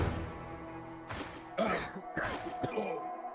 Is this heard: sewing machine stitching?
no